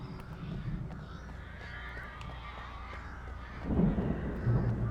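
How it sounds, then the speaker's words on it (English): Harsh crow caws in the video game Alan Wake Remastered, rough and raspy over a low rumbling ambient bed, rising louder near the end, with no talking. "These crows sound terrible."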